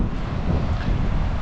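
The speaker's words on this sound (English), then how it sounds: "But still windy." Strong wind, sustained around 20, buffets the microphone in a constant low roar at a campsite in El Saltito, Baja California Sur, loud and unbroken throughout.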